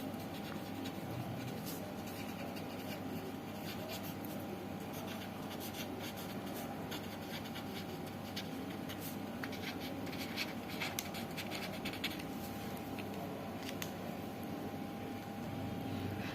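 Writing on a board during a class 10 maths lesson on quadratic equations: faint, continuous scratching strokes over a steady room hum, with no talk.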